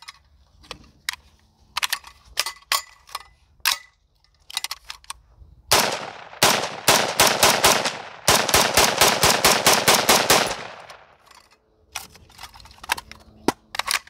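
Daniel Defense DDM4V7 rifle firing outdoors during a torture test, with sharp single shots at first, then long rapid strings of closely spaced cracks, followed by a few scattered final shots.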